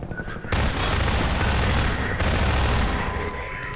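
Video game gunfire erupts into a loud, dense barrage of rapid shots that runs nearly continuously after a quieter start, with a brief dip before the firing resumes.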